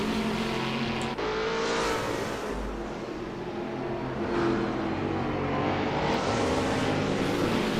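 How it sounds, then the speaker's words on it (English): A race car engine over-revs at Oran Park during a touring car race, a loud sustained high-pitched drone that rises and falls in pitch with no talk over it. "Lost control of it, you could hear it. Revving. Over revving."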